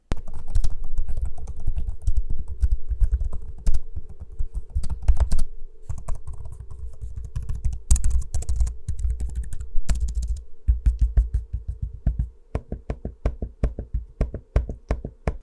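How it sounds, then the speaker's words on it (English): Rapid clicky keystrokes on an HP Victus laptop keyboard, close and continuous, with irregular bursts and pauses, then a run of lighter, evenly spaced trackpad taps. "Here's an audio sample so you can hear me using the keyboard and the trackpad"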